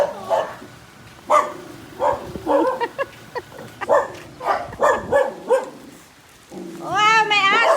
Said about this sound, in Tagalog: Wow, may aso!